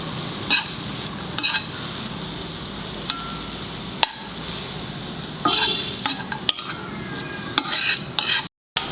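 Spices or aromatics frying in coconut oil over a medium flame for a chicken roast curry, with steady sizzling broken by sharp spoon-stirring scrapes and clinks against the pan throughout.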